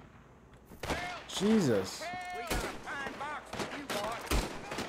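Pistol shots ring out in Red Dead Redemption 2, several sharp broadband cracks spread across a few seconds, sounding loud and close, mixed in with a man's exclaimed speech and other game sounds.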